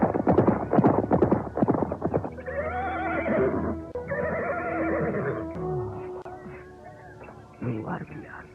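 Cavalry horses in a battle scene from a period drama let out two long, loud whinnies, preceded by noisy commotion and followed by a shorter neigh at the end.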